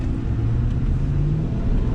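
A deep, throaty Corvette LS V8 engine rumbles steadily at idle, a low continuous burble heard up close with no talking.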